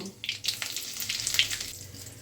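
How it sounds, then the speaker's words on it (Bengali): Bay leaf, dried chili, cinnamon and green cardamom sizzle in hot oil for a vegetarian broccoli dish, a soft, crackling fry with small pops, fairly quiet and close. "তেজপাতা, শুকনো লঙ্কা দিয়ে দিচ্ছি, দারচিনি, ছোটো এলাচ। মশলাটা একটু ভেজে নেব।"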